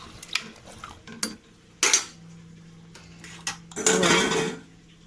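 Metal pot stirred with a utensil after water is poured in, during home cooking of a chili-spiced dish: a few sharp scrapes and clanks, two of them longer and louder, spaced apart against quiet background with a faint low hum.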